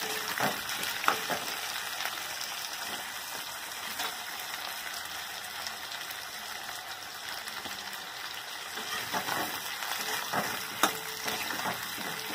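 Potatoes frying in a kadai, a faint continuous sizzle with a few light scrapes and clicks of stirring in the background.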